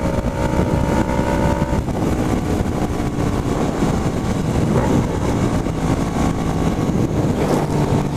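A Honda CB500 motorcycle engine roars loud and steady through the whole stretch, rough and throaty with some wind buffeting, no clear pauses.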